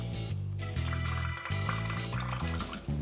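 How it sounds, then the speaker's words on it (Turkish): Half a grapefruit squeezed by hand into a cocktail shaker for a simple gin cocktail, juice splashing and dripping steadily over continuous background music with no talking. "shaker'ımın içine şöyle sıkıyorum."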